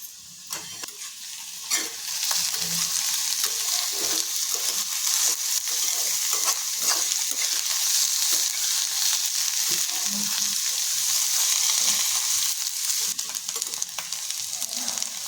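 Onion and bitter gourd sauté in a pan, sweetened with jaggery, giving a steady loud sizzle with scraping stir strokes throughout, no talk.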